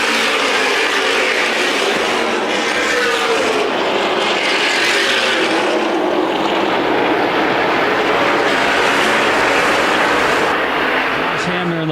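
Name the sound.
race cars restarting in CRA Super Series race at Winchester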